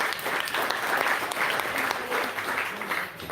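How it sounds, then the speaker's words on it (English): A town hall audience in Manchester, New Hampshire breaks into dense, steady applause, many hands clapping together at close range for a few seconds before starting to fade. "give them a round of applause again"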